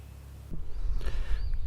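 Mowing machines working along roadways in a state park, a steady low engine drone that swells in abruptly and then holds, fairly close and loud with no talk over it.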